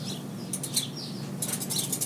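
Bird chirps and tweets woven into a recorded punk song, high bright calls arriving in short scattered bursts over a steady low musical bed.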